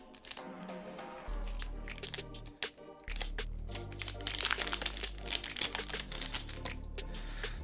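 The foil wrapper of a One Piece card booster pack crinkles and crumples loudly up close as it is torn and wrestled open, in irregular bursts of crackling with brief pauses.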